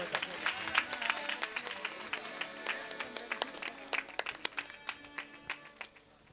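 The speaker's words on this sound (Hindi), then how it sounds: "ताली बजाओ जोरदार।" Audience at a Haryanvi folk ragni performance clapping, heard as distinct, fairly sharp individual claps in an uneven rhythm that grows sparser over a faint tonal background.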